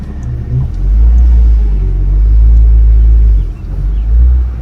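A BMW 135i E82 with the N54 engine, freshly flash-tuned, pulls away with a loud close rumble that swells, holds, then eases briefly before rising again, with no speech.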